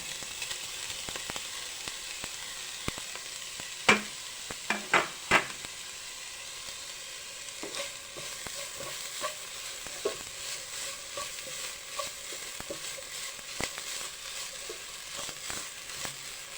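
Grated coconut tipped into a pan of stir-fried thoran, giving a steady soft sizzle with light stirring scrapes and a few sharper clicks, heard up close with no talking.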